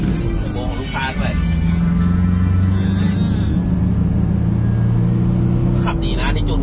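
A tuned, remapped diesel Mitsubishi Triton lifted pickup truck drives along with a steady low engine rumble and road noise inside the cab, while someone talks over it throughout.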